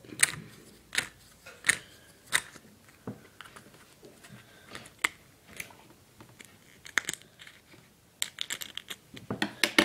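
Scissors cutting a hole in material, heard as a series of sharp, irregular snips and clicks close by, quiet between cuts and quickening toward the end, with no talk.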